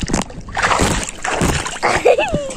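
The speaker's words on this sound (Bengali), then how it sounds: "ফোনে পানি দে তো, কিরম পারিস?" Water splashes in a few quick bursts onto an iPhone 14 Pro Max, with a person's voice and a brief whistle-like tone nearby.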